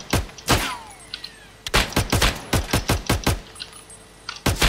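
Gunfire in a shooter video game: loud, close sharp shots in irregular bursts, a few isolated cracks followed by a rapid volley of repeated rounds, then more shots at the end.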